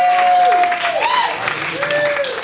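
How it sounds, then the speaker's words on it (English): A comedy club crowd gives a round of applause, sustained clapping filling the room while a tonal, sliding musical sound runs over it. "Let's give Lisa another big round of applause."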